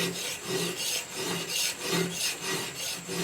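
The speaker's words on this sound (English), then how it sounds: "My initial bevel line, or my initial grind line, is all I'm doing right now by draw filing." A file is drawn steadily across the steel of a Scandinavian woodcraft knife blade to set the initial bevel, giving a close, continuous rasping in even back-and-forth strokes of about half a second each.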